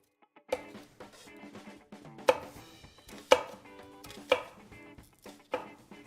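A knife tip makes shallow rainbow cuts into shallot halves on a cutting board, leaving the root end intact: a series of crisp, spaced taps in an uneven rhythm, close and fairly quiet, with no voices.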